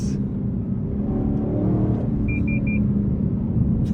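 Inside a 2025 Lexus LC 500, the V8 engine and exhaust give a deep, steady rumble that swells slightly. Three short electronic warning beeps sound from the cabin partway through.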